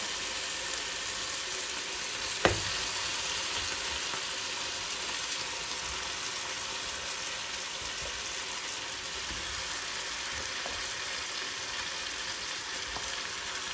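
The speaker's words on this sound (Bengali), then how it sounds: "এই পর্যায়ে আমি এর মধ্যে আগের থেকে ভেজে রাখা মুরগির টুকরাগুলো দিয়ে দিব।" Fried chicken pieces going into sizzling spice paste in a casserole for a chicken roast, a steady soft frying hiss throughout with one sharp clack early on.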